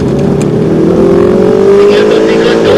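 An AMG car accelerates hard out of a track corner, its engine note climbing steadily in a loud, continuous rising drone close by, with a voice talking over it.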